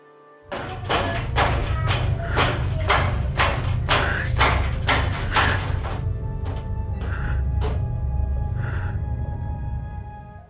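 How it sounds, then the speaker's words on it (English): Rapid, repeated thuds of a small hand pounding on a glass door, loud and insistent over a low rumbling background, then slowing to a few scattered knocks. "You can see the small hand hitting the glass repeatedly"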